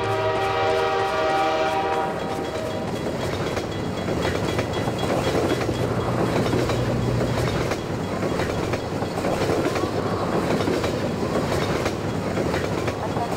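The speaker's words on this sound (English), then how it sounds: "Coming at you, train." A train rumbles past in the Half-Life 2 video game, opening with a loud sustained horn blast for about two seconds, then a steady roar of rolling wagons and clattering wheels that continues close and loud throughout.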